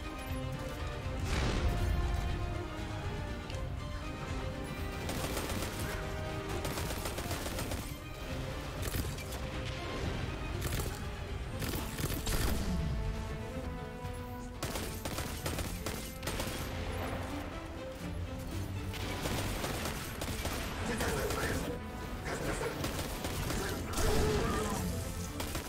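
Gunfire and crashing impacts from a Destiny 2 firefight, dense bursts of rapid shots and mechanical clatter packed together over a long stretch, loud and busy throughout.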